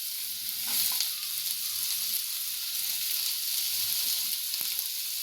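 Capsicum frying on a high flame, a steady bright sizzle holding throughout with faint stirring scrapes, close and unbroken, no voices.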